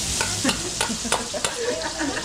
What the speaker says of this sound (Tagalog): tayo natin mag-golden brown yung bawang sibuyas natin